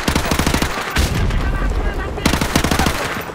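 Rapid automatic gunfire in the video game Modern Warfare Remastered, loud bursts of clattering shots with heavy booms between them, constant and close.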